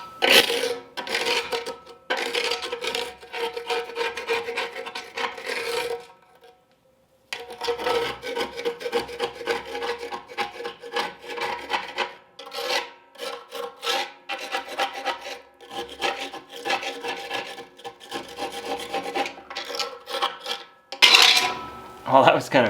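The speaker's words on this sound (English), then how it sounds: "So I gotta clean out my old gasket cement in this channel." Old, brittle gasket cement scraped out of a wood stove's channel, a steady harsh rasping and grinding that runs near and loud, stopping once briefly then resuming with metallic scratches.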